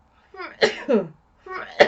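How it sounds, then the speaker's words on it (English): A peculiar, voiced sneeze comes in two close bursts, each rising to a sharp, explosive peak, heard near and alone. "Excuse me with my weird sneeze."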